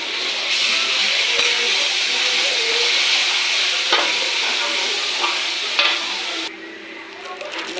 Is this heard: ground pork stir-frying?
yes